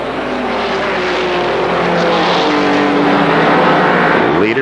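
ARCA supercars race around Kil Kare Speedway in 1995 with a loud, continuous engine roar. Near the end a car sweeps past and the pitch slides down.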